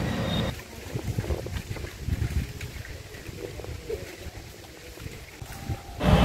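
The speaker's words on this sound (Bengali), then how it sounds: "পাতার মর্মর আওয়াজ পাচ্ছেন কি? তার সাথে হাওয়ার ঝাপট, তারও আওয়াজ হচ্ছে" Gusty storm wind from a first Kalbaishakhi nor'wester at Jashoda Dham, a broad continuous rushing roar with rustling leaves, buffeting the microphone and swelling louder at the end.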